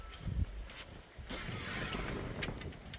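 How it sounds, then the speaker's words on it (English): Gusts of wind buffet the microphone outdoors while a caravan awning is set up, a steady low roar with rough rumbling bursts and no voices. "Very windy here today."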